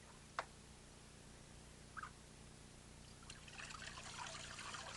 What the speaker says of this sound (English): pour the cold water on his feet.